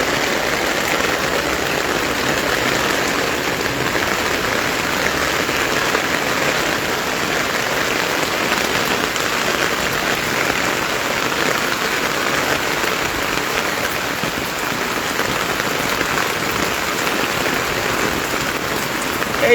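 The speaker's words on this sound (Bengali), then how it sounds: "এই বৃষ্টির শব্দ, এইটুকু শব্দ আমার খুবই প্রিয়।" Steady rain patters down continuously on surfaces nearby, a dense, even hiss of drops with no pauses and no voices.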